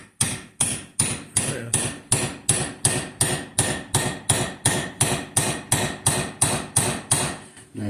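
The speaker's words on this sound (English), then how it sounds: "We're just going to lightly tap it to get it started." A hammer taps a part into an engine head in a steady, even rhythm of about twenty light metallic strikes, close and clear with no talking.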